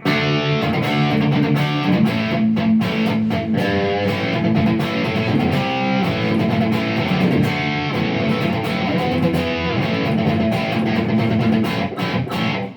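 Electric guitar through a Boss GT-1000 effects processor, heavily distorted, playing chords steadily and loudly, alone, with a thick, gritty crunch throughout.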